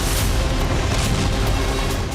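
Explosions from air strikes in Bakhmut sound as heavy, loud booming, dense and continuous with deep rumbling throughout the short stretch and no speech.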